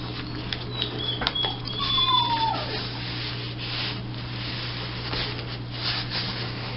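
A pet cat named Rosie cries with a few faint, drawn-out meows over a steady low hum, with light rubbing and handling sounds around the calls.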